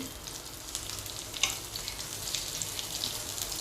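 Crisp-fried surmai fish in a pan, a steady quiet sizzle with a brief louder clatter as a piece is turned over.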